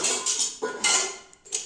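Dishes and utensils clinking and clattering together in a home kitchen, a few sharp, close knocks and rattles in quick, uneven bursts with no speech.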